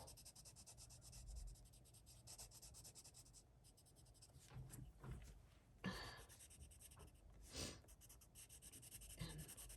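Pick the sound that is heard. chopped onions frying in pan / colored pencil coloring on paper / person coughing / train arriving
colored pencil coloring on paper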